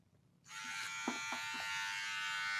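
An electric hair clipper fitted with a number 2 aluminium guard switches on and runs with a steady, bright buzzing hum, close and constant, with a few faint clicks as the blade lever is adjusted.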